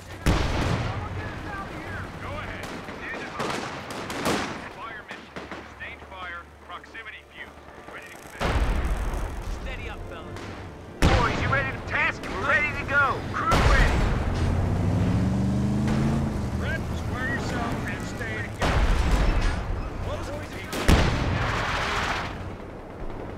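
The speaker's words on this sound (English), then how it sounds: "Artillery." Artillery fire and gunshots in the video game Company of Heroes 2 Ardennes Assault: heavy booming blasts and scattered rifle fire arrive in separate loud bursts with quieter gaps between them, while voices call out over the battle.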